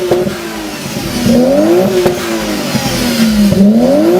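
Toyota JZX90 with a 1JZ engine revving hard, loud and close, its pitch repeatedly climbing and falling through several throttle blips.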